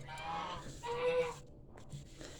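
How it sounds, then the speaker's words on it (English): Nosy farm geese honk in a few loud, nasal calls close by, with short gaps between bursts and quiet background around them. "comes the geese. They're just too nosy for their own good"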